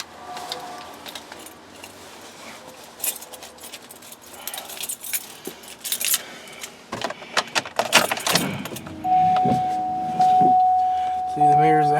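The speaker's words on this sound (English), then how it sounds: "Let me find the keys." Car keys for a 2012 GMC Yukon XL Denali jangle in several short bursts of metallic clinking while someone talks, followed by a steady electronic tone near the end.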